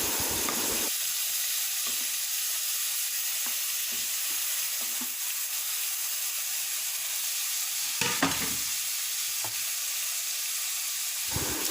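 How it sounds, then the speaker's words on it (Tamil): Onion, garlic, ginger and turmeric powder sizzle and fry steadily in a hot pan, with intermittent scraping stir strokes rising over the continuous close hiss. "அது கூட கொஞ்சம் மஞ்சப்பொடியும் போட்டு நல்லா கிளறி விடணும்"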